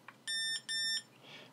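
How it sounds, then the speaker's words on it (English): Two short electronic beeps in quick succession from Fat Shark HD3 FPV goggles stopping recording, clear and high-pitched, in an otherwise quiet setting. "Beeps twice and there it's finished."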